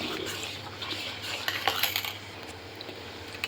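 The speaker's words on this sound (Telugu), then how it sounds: "మొత్తం బాగా ఈ పాల్లో కలిసేటట్టు బాగా కలిపేసుకోవాలి" A utensil stirs cheese powder into milk in a bowl, with soft scraping and light clinking against the vessel, a few sharper taps in the middle over a faint steady hum.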